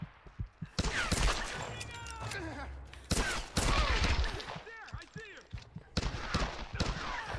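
Machine gun fire in Tomb Raider: Definitive Edition, loud dense bursts of automatic gunfire with sharp impacts and shattering, in several waves, under a player's voice.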